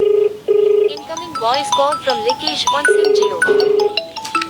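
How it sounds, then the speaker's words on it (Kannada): A phone rings with a repeating tone in short bursts, broken by a synthetic voice announcing the caller between rings, close and clear. "ಒಂದು ಕಾಲ್ ಮಾಡ್ತೀನಿ ನೋಡಿ, ಇವಾಗ ಅನೌನ್ಸ್ಮೆಂಟ್ ಆಗುತ್ತೆ"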